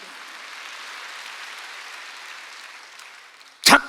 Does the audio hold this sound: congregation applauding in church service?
yes